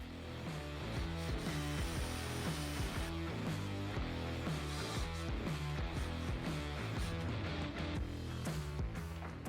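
A screw being driven into a homemade jigsaw build in a small workshop, heard as a close, continuous rattling, ratcheting mechanical whir that runs unbroken throughout.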